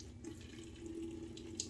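Water running from a tap into a lather bowl of shave soap, a faint steady trickle with a small drip or clink near the end.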